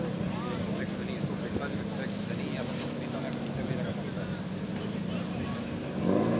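A Toyota Supra drift car fitted with a BMW engine roars steadily at a drift event in Valjevo, its engine note loud and continuous with wind buffeting, and the revs rise near the end.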